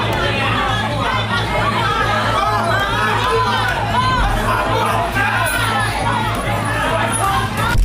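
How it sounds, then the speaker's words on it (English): A crowd in a courtroom erupts in commotion, overlapping voices, chatter and shouting filling the room loudly and continuously, with a steady low hum running underneath. "Deputies pushed the crowd out into the hallway where the commotion continued."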